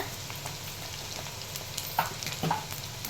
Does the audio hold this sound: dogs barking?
no